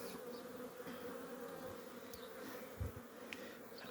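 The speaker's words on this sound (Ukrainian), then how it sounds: "Бджола йде з ліщини пилком ліщини" Honeybees hum in a low, steady buzz close by, with a few brief knocks and rustles near the end.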